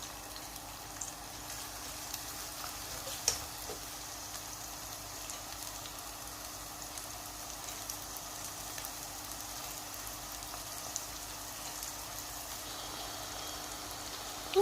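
Kofta curry base frying in a pan until light golden brown, a steady soft sizzle like light rain running throughout with occasional faint clicks of stirring, no talking.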